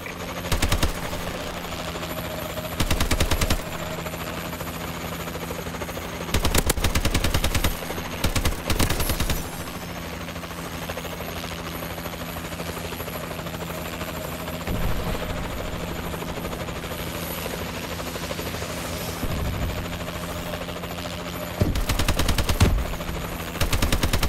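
A helicopter gunship rotor drones steadily throughout Call of Duty: Advanced Warfare gameplay, broken by several loud bursts of rapid machine-gun fire that come and go in short volleys.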